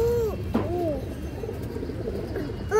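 Several pigeons coo in rounded, repeated calls, close and fairly loud, with overlapping phrases over a steady low background; these are Bangladeshi fancy pigeons such as high-flyers, a pair being shown.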